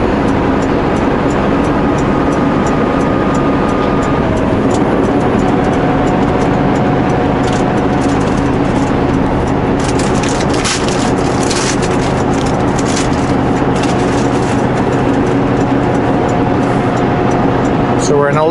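A truck engine climbs Rogers Pass westbound in 11th gear with a loud, steady drone heard from the cab. Road and wind roar persist throughout, and someone talks over it.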